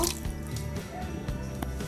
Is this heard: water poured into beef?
yes